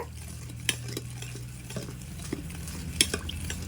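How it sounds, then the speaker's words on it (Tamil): Milk stirred a little at a time into a badam kulfi mixture, a spoon scraping and clinking softly against the vessel with a few sharper taps over a low steady hum, no voices. "இதில் கொஞ்சம் கொஞ்சமாக இந்த பாலை சேர்த்து மிக்ஸ் பண்ணிக்கலாம்."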